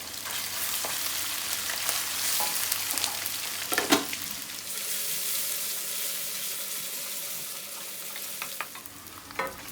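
Garlic and ginger fry in a pan for a pigeon curry, giving a steady broadband sizzle with scattered stirring scrapes and clinks, loudest around the middle, close and with no talking.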